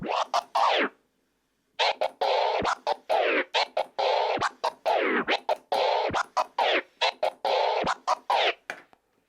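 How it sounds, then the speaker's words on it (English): Rapid DJ two-click flare scratching on a record, short chopped bursts in quick repeated patterns, loud and close, with a brief pause early on. "then it's time to move on to the 2-click flare,"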